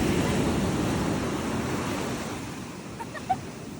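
Sea waves wash steadily onto a beach on the ECR coast near Pondicherry, a broad roaring surf with wind buffeting the microphone and a faint brief sound near the end.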